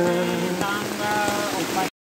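Heavy rain pours steadily through a forest on Mount Galunggung, a dense, continuous hiss of drops striking leaves and ground, loud and close throughout before cutting off abruptly.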